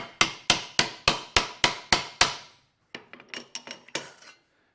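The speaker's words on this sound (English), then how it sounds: "You chuck your sheet metal in there, want to bend it over, pull it down the hammer" Eight sharp, evenly spaced metallic hammer blows ring out as sheet metal is bent over a bench vice bending brake, followed after a short pause by a quicker, fainter cluster of lighter taps.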